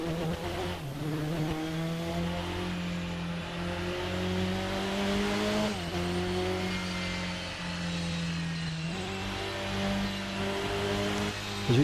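An LMP prototype race car engine in Assetto Corsa howls through the gears, pitch climbing steadily then dropping sharply at each upshift several times, loud and close with no talking.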